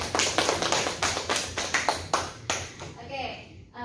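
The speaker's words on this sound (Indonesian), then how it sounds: "Tepuk tangan dulu sama" A class of students clapping their hands during a lesson, a series of sharp, close claps in an uneven rhythm that thins out and fades, followed by a little speech.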